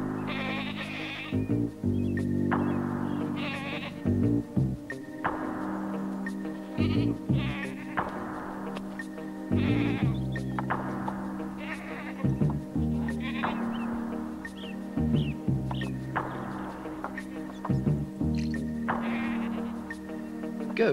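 Goats bleat repeatedly in a loud, wavering chorus, with overlapping calls from several animals one after another and no pauses between them.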